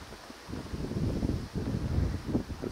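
Icy winter wind on a cliff top at Knopfmacherfelsen near Irndorf, rushing and buffeting the microphone as a steady low roar that swells and dips in gusts, with no other sound.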